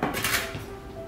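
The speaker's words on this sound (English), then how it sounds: "I'm gonna bring the baking dish over" A baking dish holding spaghetti squash halves is set down on a kitchen counter, giving a single short clunk of dishware that fades quickly.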